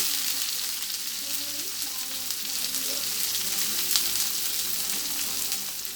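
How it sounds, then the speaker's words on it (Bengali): Cumin seeds, chopped garlic and onion frying in hot oil in a wok, a steady, dense sizzle that holds evenly throughout with no voices. "কড়াইটা গরম হয়ে গেছে তেল ঢেলে দিছি দেখেন আস্তা জিরে পরিমাণ মতন রসুন কুচি পেঁয়াজ কুচি"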